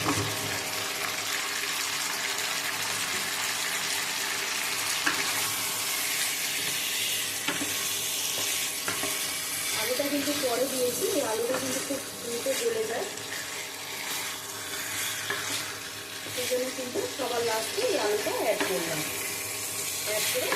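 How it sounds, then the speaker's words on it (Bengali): Spicy mutton curry with fried potatoes sizzles steadily in a pan, with periodic scraping and stirring strokes over a constant hiss while a voice talks in the middle stretch. "ভালো করে নাড়াচাড়া করে আর একটু কষিয়ে নেব"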